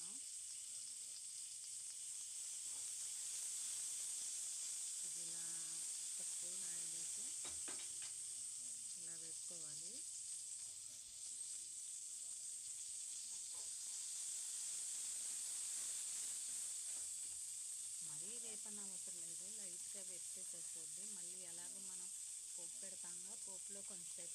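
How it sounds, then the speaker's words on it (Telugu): Green chillies frying in hot oil in a pan, a steady bright sizzle and hiss running throughout with occasional stirring, while a voice talks intermittently over it. "యాన్ పెట్టి ఆయిల్ వేసి పచ్చిమిర్చి వేసేసుకుందాం"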